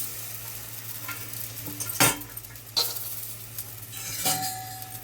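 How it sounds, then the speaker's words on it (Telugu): Peanuts roasting in a kadai with a spatula stirring them, a soft dry crackle under several sharp metallic scrapes and clinks, the pan close and fairly quiet between strokes. "అదే కళాయిలో కొంచెం శనగపలుకులు వేసుకుందాం."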